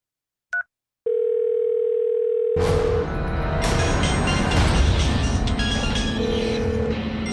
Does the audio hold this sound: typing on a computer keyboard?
no